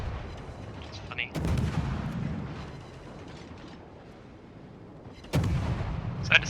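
Warship HE shell salvos in the World of Warships video game, two deep booming gun blasts a few seconds apart, each followed by a rumbling tail, with quiet background noise between.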